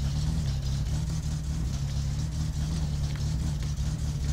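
Car engine in the video game My Summer Car, a steady low droning idle with a constant rumble that holds at a fairly loud level throughout, with no talking.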